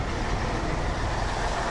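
An old Soviet-era bus in the streets of Chisinau, Moldova, heard as a steady, moderately loud diesel rumble with broadband traffic noise and no talking.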